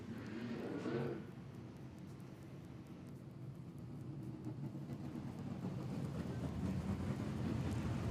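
Hydroplane racing boats roar across the water in a heat of the War of the Wings race, a distant engine drone that swells and grows louder toward the end, with some wind noise on the microphone.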